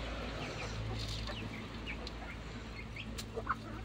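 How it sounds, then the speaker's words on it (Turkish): Backyard chickens cluck softly while being fed scattered food, with faint scattered calls and chirps over a low, steady outdoor background hum. "Tavukçuklar."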